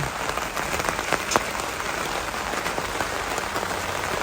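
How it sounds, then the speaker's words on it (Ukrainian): Rain dripping and pattering on the cover of a garden swing during a heavy summer downpour, a steady close wash of drops with a few sharper taps, no voices. "Під дощиком навіть послухати там капає."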